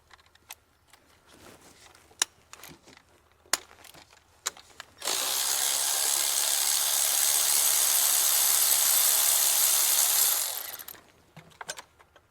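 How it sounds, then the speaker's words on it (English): Undoing a T40 Torx injector bolt on a Mercedes Sprinter van, with a few scattered clicks and knocks followed by a steady, loud powered whir of a tool lasting about five seconds, then tapering off. "So now we're gonna undo this bolt over here."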